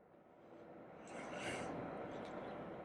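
Toyota V6 2GR-FE engine idling steadily just after starting, a broad low rumbling hum that swells slightly midway, heard from nearby inside the car.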